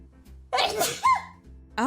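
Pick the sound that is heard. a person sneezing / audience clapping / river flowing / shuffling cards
a person sneezing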